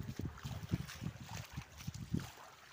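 Overflowing river water rushes past in a steady broadband wash, with rough low thumps and gusts breaking through it at close range.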